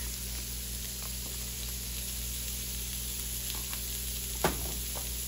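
Garlic and seasonings sizzling with green beans in a pan for Southern-style green beans, a quiet continuous hiss with a couple of soft stirring knocks.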